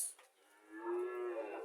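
A Friesian cow at a cattle market gives a single drawn-out moo that swells after a brief quiet start and holds for about a second, close and clear, with no talking.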